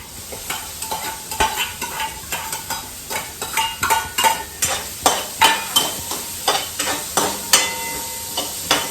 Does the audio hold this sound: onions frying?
yes